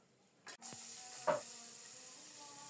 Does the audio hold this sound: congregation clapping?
no